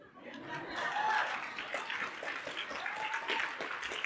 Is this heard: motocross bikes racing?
no